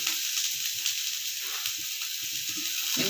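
Spring onions fry in a hot pan on a medium flame, a steady close sizzle and hiss running throughout with faint crackles underneath.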